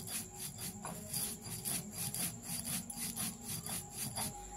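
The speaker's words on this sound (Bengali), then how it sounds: "সর্ষেও বেটে নেব আর জোয়ানটাও বেটে নেব।" Mustard seeds and ajwain are ground by hand on a stone, a steady back-and-forth rasping scrape repeating rhythmically at close range.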